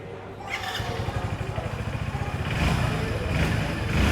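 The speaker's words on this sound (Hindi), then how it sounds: "ये देखो ये आइडल पे है HF डीलक्स का।" Two 2026 Hero E85 flex fuel motorcycles, a Splendor Plus and an HF Deluxe, idle side by side with a steady, close putter that swells a little toward the end.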